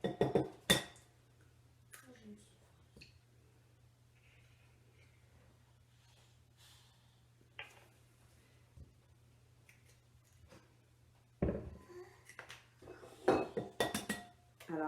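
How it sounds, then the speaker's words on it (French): Eggs are separated in a kitchen, with scattered clinks and taps of dishes and shells at close range over a steady low hum, growing busier near the end. Brief talk is heard. "Alors, 4 œufs qu'on sépare le blanc des jaunes"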